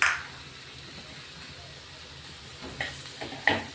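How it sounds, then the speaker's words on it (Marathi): Finely chopped tomatoes roast in a pan, giving a steady, close hiss of sizzling with a few brief scrapes and clinks toward the end. "दोन टोमॅटो बारीक कट केलेले ते आता आपण भाजून घेणार आहे."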